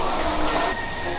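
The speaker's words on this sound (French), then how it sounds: "Petit métro." A Tokyo metro train rumbles steadily close by near Shibuya, a dense continuous roar with a brief hiss partway through.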